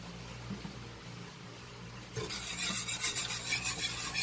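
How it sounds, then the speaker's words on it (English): Keto sausage gravy getting a quick stir in the pan: faint scraping at first, then a louder rhythmic rubbing swirl for about two seconds, with no talking. "Give that a quick stir."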